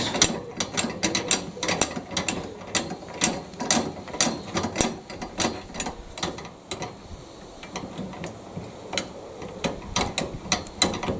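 A trailer jockey wheel being wound up tight by hand, its ratchet clicking in rapid, uneven bursts of sharp mechanical ticks close to the microphone, with no voices.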